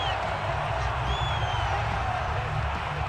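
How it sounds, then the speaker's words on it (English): A stadium crowd in the video game Madden, Patriots at Colts, giving a steady, dense roar of shouting and cheering that stays level throughout, with a faint voice over it. "Plenty of shouts from this crowd as they watch the replay."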